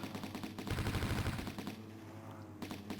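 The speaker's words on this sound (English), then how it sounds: "Nope, I'm getting shot at." Dense bursts of enemy gunfire from the Amiga shoot-'em-up Banshee rattle along with electronic game music, loudest in the first half, then thinning out to quieter intermittent shots.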